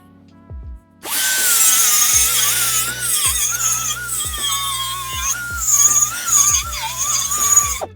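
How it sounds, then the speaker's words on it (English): A die grinder fitted with a small flap disc trims a suspension shock mount on a Gen 4 Toyota Tacoma TRD, whining steadily at close range for several seconds with shifting pitch as it bites into the metal, after a brief start-up. "I'm just going to use a die grinder and the little flappy disc."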